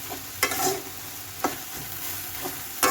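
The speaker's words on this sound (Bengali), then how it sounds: "এরকমটা ঘেটে ঘেটে ভেজে ভেজে নামাতে হবে।" Spinach ghonto fries in a pan as a spatula scrapes and stirs it in a few distinct strokes over a steady, close sizzle, with no talking.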